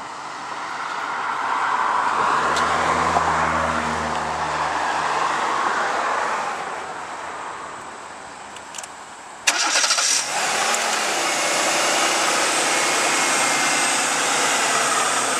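A 1995 Oldsmobile Cutlass Supreme engine cranks and catches, then settles into a steady running idle with a louder revving rise partway through, close by.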